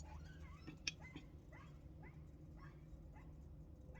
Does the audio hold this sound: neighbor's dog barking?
yes